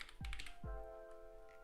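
A few quiet keystrokes tap on the keyboard of an iMac G3 running Lubuntu Linux, two distinct clicks close together in an otherwise faint, humming room.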